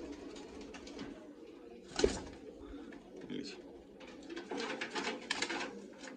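A female Kamagar pigeon gives soft coos and low murmurs at close range, mixed with someone talking and faint handling noise.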